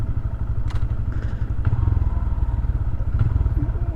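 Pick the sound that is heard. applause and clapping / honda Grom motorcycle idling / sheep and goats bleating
honda Grom motorcycle idling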